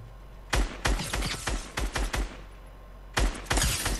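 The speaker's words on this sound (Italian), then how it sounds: "Mi stanno a sparare, ragazzi, mi stanno sparando, mi stanno sparando" Gunfire in a battle royale game, rapid clusters of sharp close shots in two bursts separated by a short pause.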